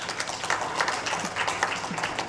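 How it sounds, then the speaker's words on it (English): A conference audience claps to welcome a guest, a steady wash of applause from many hands that goes on throughout, with faint voices mixed in. "Let's clap to welcome her."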